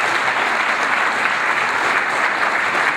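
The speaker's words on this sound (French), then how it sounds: "Donc je voudrais que nous applaudissions pour la" Steady, dense applause from a graduation ceremony audience at a doctoral conferral, continuous clapping filling the hall at even volume with no voices over it.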